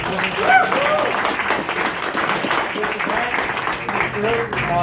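An audience at a small, intimate winery event gives a round of applause, brisk clapping filling the room while people talk over it.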